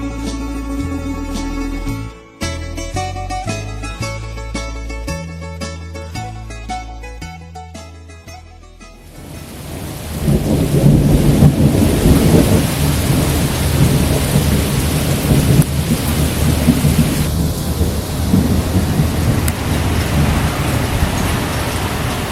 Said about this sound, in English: An afternoon thunderstorm cleared away to provide a spectacular